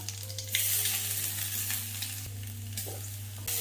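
Mustard seeds, two dried chillies and curry leaves frying in oil for cheera thoran, a close crackling sizzle with scattered pops and stirring taps over a low steady hum.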